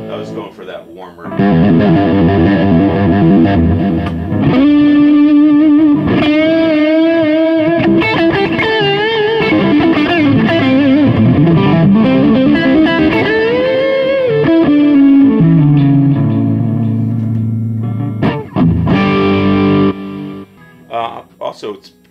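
Electric guitar played through a 44 Magnum power amp pedal with a distortion pedal fully engaged: sustained, heavily saturated notes and bends ring continuously for about twenty seconds, loud and alone.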